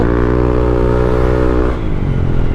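A Honda ADV150 scooter engine hums loud and close with a steady, strongly pitched drone while riding, then drops in tone and eases off near the end.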